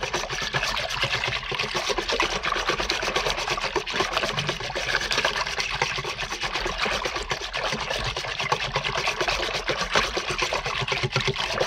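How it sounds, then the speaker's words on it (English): A stiff whisk stirs water into a sourdough starter, producing a steady, continuous wet sloshing and churning with rapid rhythmic strokes, close and fairly loud throughout, with no voices. "I'm going to help it to hydrate just using a nice stiff whisk."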